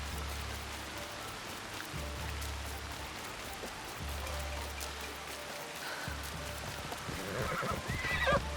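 Rain falls steadily in the video game Assassin's Creed Shadows, a continuous hissing patter under a low repeating hum, growing slightly louder toward the end.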